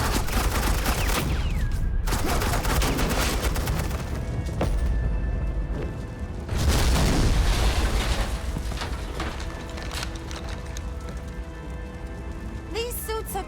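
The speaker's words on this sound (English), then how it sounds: "suppressing fire." Suppressing gunfire in the Batman: The Enemy Within game, a sustained, loud barrage of rapid automatic shots and booms that rattles on for several seconds, with a voice speaking briefly over the shooting.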